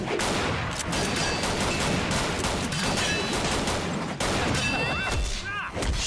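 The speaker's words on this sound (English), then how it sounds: "Shooting nunchucks." Bursts of gunfire from shooting nunchucks in a RWBY animated fight scene, rapid repeated shots with crashes and clangs, loud and dense throughout, with a voice briefly heard.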